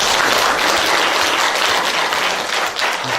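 Applause from the audience for panelists at a sustainable development forum in Incheon's Seo District, a dense, even wash of clapping sustained for the whole stretch, close and fairly loud.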